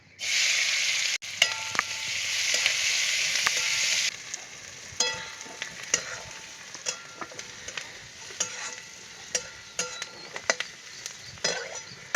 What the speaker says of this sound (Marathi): आता थोडं तेल टाकलंय आणि कांदा टाकून घेते तळायला